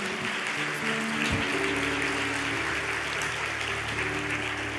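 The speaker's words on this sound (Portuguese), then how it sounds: "pode aplaudir" Steady applause from a church congregation during a sermon, a continuous dense wash of clapping at moderate level with a low hum beneath it.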